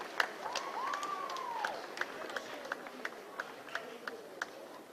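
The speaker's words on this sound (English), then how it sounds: "So this is Faneni then, Wallace and Fortuna finishing off his 1500 metres to the warm applaud of the crowd." A stadium crowd applauds warmly as a runner finishes the men's 1500 metres at an athletics meet, steady scattered clapping with a few sharp claps standing out, and a commentator talking over it.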